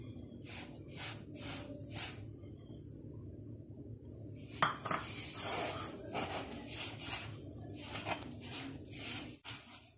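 Ingredients for ras malai get worked together into a dough in a bowl by hand, heard as a run of rhythmic scraping and rubbing strokes, close and fairly quiet, with a brief clink, no speech.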